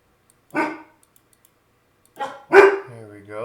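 Dogs bark indoors in a few sharp separate outbursts, one near the start and a louder cluster toward the end, with quiet between.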